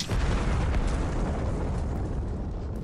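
A nuke explodes in Krunker.io, a loud, dense, rumbling blast that hits at once and roars on for a few seconds before slowly thinning, with no voices over it.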